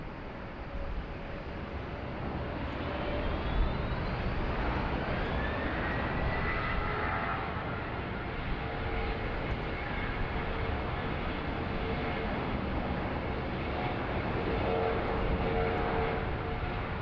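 A Qantas airliner roars down runway 16 right at Sydney Airport during a thunderstorm, its engines a steady, broad rumble heard from a distance that holds without a break throughout.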